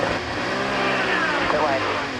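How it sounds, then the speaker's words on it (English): An IndyCar race car at the 2021 Indianapolis 500 downshifts to first gear and locks its rear wheels, its engine note sweeping loud and close beneath commentary. "Final downshift call to first gear, and it locked up the rear end."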